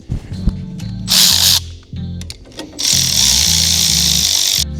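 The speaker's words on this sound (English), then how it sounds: "I have to tighten that one with a wrench." A bolt being tightened on an Amazon mini Jeep fitted with two turbos, with loud bursts of rapid ratcheting whir alternating with clunks and tonal mechanical hum, close up and with no talking.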